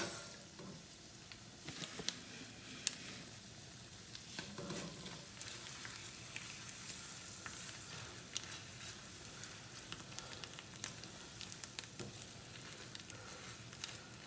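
Creamed spinach simmers in a pan on a low stove burner, giving a steady soft sizzle and bubbling with occasional faint clicks and scrapes, no talking.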